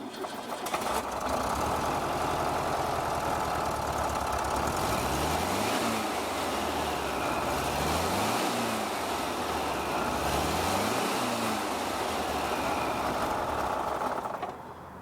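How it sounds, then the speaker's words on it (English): A 1979 VW Super Beetle Convertible engine cranks and catches after a second, then runs steadily with a loud, close, rattly air-cooled clatter, its revs rising and falling a few times, with no talk over it. "We're going to start this engine for you right now."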